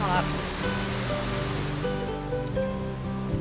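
A 30-foot veil waterfall on Cucumber Run at Ohiopyle State Park, heard as a loud, steady, broadband rush of falling water filling the whole moment without pause.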